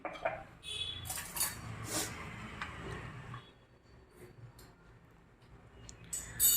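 Metal utensil clinks and scrapes against a pan in a quiet room, a few sharp taps and stirring sounds, no talking.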